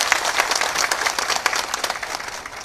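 An audience at a political speech in Latur applauds in a dense, close burst of clapping that carries on steadily throughout.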